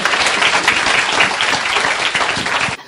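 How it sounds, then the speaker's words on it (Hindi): An audience at a Brahma Kumaris New Year celebration at Pandav Bhawan claps loudly and steadily for nearly three seconds, a dense, close burst of applause that cuts off abruptly at the end. "जोरदार ताली बजा"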